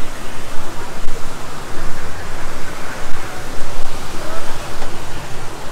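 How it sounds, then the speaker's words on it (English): Waterfalls splash into a deep section of a resort pool, a constant loud rushing hiss of falling water that fills the scene without a break. "This area of the pool, a little deeper, it's got some waterfalls."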